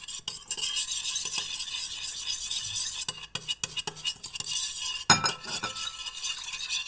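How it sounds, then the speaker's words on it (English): Quick metallic whisking clinks and scrapes against a bowl as tomato paste is dissolved in water, busy and close, with a brief louder clatter near the end. "With a whisk, we completely dissolve the tomato paste and add a little more water."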